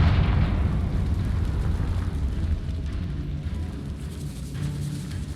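A Confringo blasting-spell explosion in the Hogwarts Legacy video game, set in a decaying catacomb: a heavy, rumbling low boom that rolls on and slowly fades over several seconds, loud and close.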